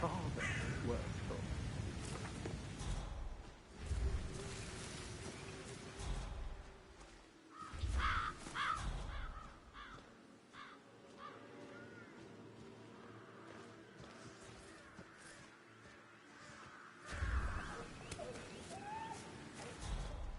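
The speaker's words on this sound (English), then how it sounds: "Damn birds." Crows cawing in Hitman 3 at Dartmoor, repeated harsh calls scattered over an ambient game soundscape, with voices speaking at times between the caws.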